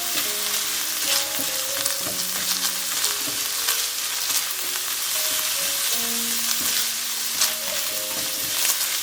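Onions, red pepper flakes and cilantro fry in a pan for cumin lamb, giving a loud, constant close sizzle with frequent scraping and clinking from stirring throughout, no voices.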